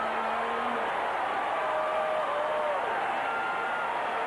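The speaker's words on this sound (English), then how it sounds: "the crowd on their feet cheering the rookie from Brigham Young" A stadium crowd at a 1980 Raiders versus Chargers football game cheers a completed pass, a steady roar of broad, sustained crowd noise holding level throughout, with faint tonal whistles drifting above it.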